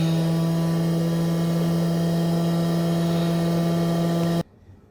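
A laboratory centrifuge spins a column at 10,000 RPM, a steady droning whine with strong tonal hum that holds evenly for over four seconds, then cuts off abruptly into near silence.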